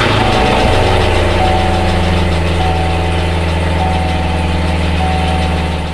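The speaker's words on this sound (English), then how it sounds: "So it's going to be the first start with the X pipes on." Corvette C7 V8 with a newly fitted X-pipe exhaust, cold start: a loud, steady idle with a deep rumble close by, continuous for the whole stretch with no talking.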